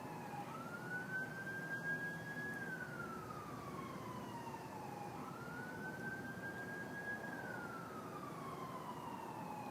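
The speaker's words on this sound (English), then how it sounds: "I hear sirens," Faint, distant siren slowly wailing up and down in pitch, two long sweeps over a low background rumble like far-off traffic.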